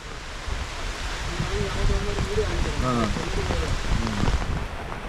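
Rain falls steadily during travel on Munroe Island near a bridge, a continuous broad wash of drops under a man's speech.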